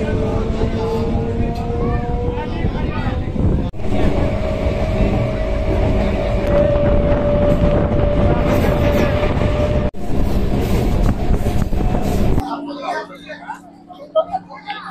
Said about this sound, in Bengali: এখনই ট্রেন ছাড়বে।